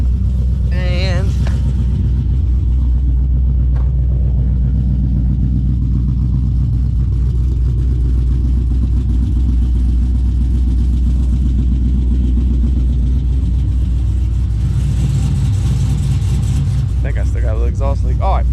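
A Pontiac GTO engine idles with a steady, loud, low rumble and an exhaust leak, running continuously near the listener with a brief rev near the start and again near the end.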